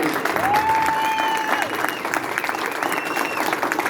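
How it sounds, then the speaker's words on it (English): Steady applause from a crowd fills the room, continuous and fairly loud, with a faint whistle-like tone briefly rising above the clapping. "Give her a round of applause."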